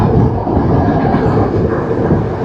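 The Yal Devi train runs through Sri Lanka, a loud, close, continuous rumble of wheels and carriages with a steady low roar that never lets up, no voices over it.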